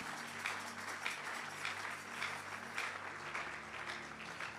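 A church congregation applauds during a conference service, steady, dense clapping from many hands in a reverberant hall, moderately loud and continuous without speech.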